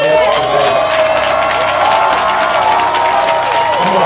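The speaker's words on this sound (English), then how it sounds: "would you just cheer for the black women who are in our midst today?" A loud protest crowd near the Kentucky Derby in support of Breonna Taylor cheers and whoops for Black women, with a sustained roar of many voices and applause close by.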